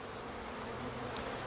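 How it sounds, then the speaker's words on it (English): Honeybees from a package swarm around Langstroth hives during installation, giving a steady, dense, close buzz that holds unbroken throughout. "I'm collecting a lot of bees from around here as I'm doing this"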